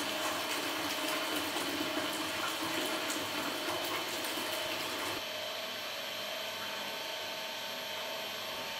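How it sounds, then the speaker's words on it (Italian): Water runs steadily from the dispenser of a Lilliput 2.0 ice cream machine into a jug during cleaning, a constant close hiss and splash that drops slightly in level partway through. "Posizioniamo una caraffa sotto l'erogatore, apriamo ed eroghiamo acqua e gelato."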